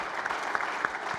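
Brief applause from an audience at an OutGiving 2013 celebration event, an even mid-level patter of clapping with a few sharper claps.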